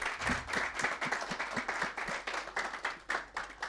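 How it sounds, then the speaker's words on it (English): Conference audience applauding steadily for a panel member, a dense wash of clapping hands with quick individual claps standing out, moderately loud and continuous throughout. "Just a round of applause for her, please."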